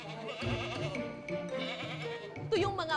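Dairy goats on a farm bleat repeatedly, several wavering calls overlapping at moderate distance, with a louder quavering bleat near the end and a busy background of other farm noise.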